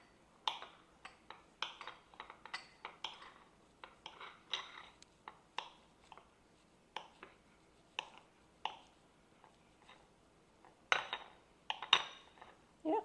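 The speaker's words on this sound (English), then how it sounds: "We're going to take our Irish butter and cut it into little cubes" Knife cutting Irish butter into cubes on a board, a series of irregular sharp taps and clicks with quiet gaps between, close and fairly faint, a quicker cluster near the end.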